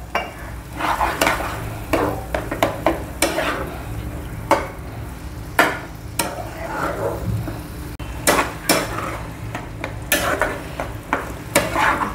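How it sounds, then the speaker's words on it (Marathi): Eggplant bharta with tomato is sautéed in a pan, a spatula scraping and stirring in repeated close strokes over a low, steady frying sizzle. "आपलं हे सगळं छान परतून झालं आहे."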